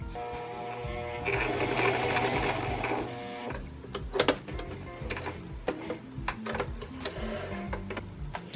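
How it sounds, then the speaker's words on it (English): An embroidery machine stitching apparel, with a steady mechanical whirring and rapid needle ticking, then sharper clicks and taps in an irregular rhythm, heard close and moderately loud. "something that I really wanted to like really get into is embroidering"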